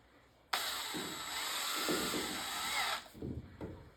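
A power drill with a 5/16 inch bit bores steadily through an arcade control panel for about two and a half seconds, then winds down, followed by a few faint clicks and handling noises.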